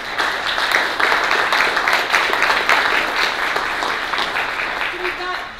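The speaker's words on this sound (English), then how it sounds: "how about a round of applause for this group, right?" Audience applause for a group at a professional conference session, a dense, steady crackle of many hands clapping that holds at an even level throughout.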